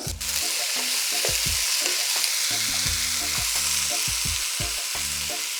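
Potatoes and onions fry in olive oil with a loud, continuous hiss close by, broken by repeated clunks and scrapes of stirring against the pan.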